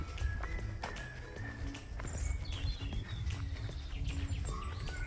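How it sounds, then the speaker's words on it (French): Small birds chirp on a coastal hiking trail, bright scattered tweets over the steady crunch of footsteps and outdoor ambience. "On entend bien les petits oiseaux, hein."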